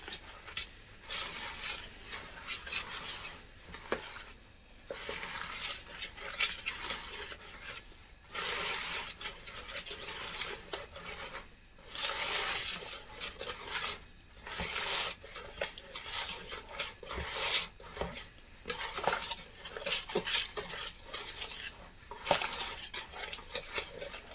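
A wooden spoon stirring a sugar mixture for a mandarin drizzle cake in a pan, a steady close scraping and swishing that continues throughout with small irregular knocks and no talking.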